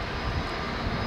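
An airplane at Lisbon Airport roars with a loud, steady, broadband engine rumble, close and continuous throughout the short stretch.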